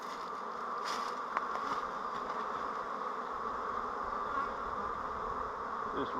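Honeybees buzz in an agitated swarm around a hive where pollen traps are being put on, a steady droning hum close by with a few individual bees zipping past, and no speech.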